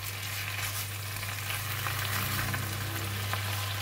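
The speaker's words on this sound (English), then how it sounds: "Continue to stir fry until the vegetable is" Kailan (Chinese broccoli) stir-fried with salted fish sizzles steadily and fairly loudly in a pan, a continuous frying hiss with a low steady hum underneath and faint stirring clicks.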